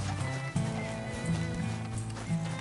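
Horse hooves galloping in a PS4 video game, a steady clip-clop rhythm under a continuous game music and ambience bed, with the beat briefly interrupted about half a second in before resuming.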